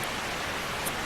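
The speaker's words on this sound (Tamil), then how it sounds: "இன்னும் மழை விடலையே" Steady rain falls throughout, a soft, even hiss with no breaks and no talking.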